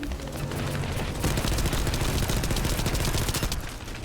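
SMG fire in the video game The First Descendant rattles in dense, continuous rapid bursts, loud and close, with booming impacts layered under the sustained gunfire and no voice.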